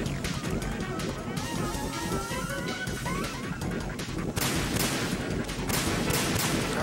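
Gunfire in the Metal Gear Solid 2 video game, with dense bursts of shots and impacts mixed into loud game action, under talk throughout.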